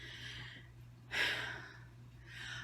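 Heavy breathing of a person just back from the laundromat, audible as close, breathy exhales in a slow rhythm, with a loud rushing breath in the middle.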